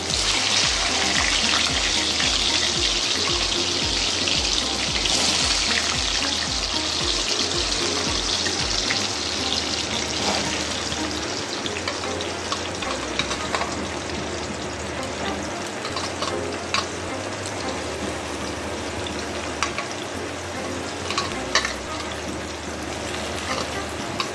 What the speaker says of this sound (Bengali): এবার আমি ওলটা তেলে দিয়ে দিচ্ছি।